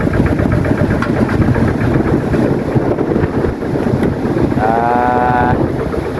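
A steady, rumbling tractor engine idles throughout, loud and close, with some wind buffeting the microphone.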